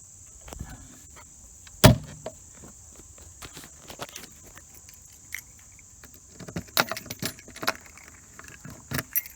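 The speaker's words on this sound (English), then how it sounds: "pop your key in there, unlock it, bags come off in minutes" Key unlocking a Viking Baldur XL hard saddlebag lock on a 2007 Harley-Davidson Fat Boy, faint metallic jangling and a few sharp clicks, with soft handling noises and an outdoor hum in the background.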